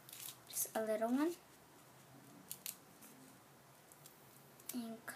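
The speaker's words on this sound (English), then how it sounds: "you're gonna get the scissors, and then you're gonna cut it like that." Scissors snip paper folded for a snowflake, giving a few short crisp cuts close by, with a person talking between them.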